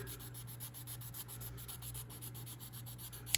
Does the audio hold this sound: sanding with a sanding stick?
yes